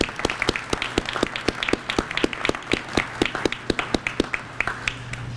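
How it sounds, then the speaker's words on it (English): At a police community awards ceremony, a modest crowd claps in distinct, fairly even slaps, individual hands clearly separable rather than merging into a roar, continuing steadily for several seconds. "So if you could, please give your families a round of applause."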